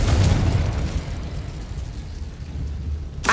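A Confringo spell in Hogwarts Legacy goes off as a loud, rumbling explosion with a heavy low boom at the start that decays into a long fading roar, and a sharp crack arrives at the end.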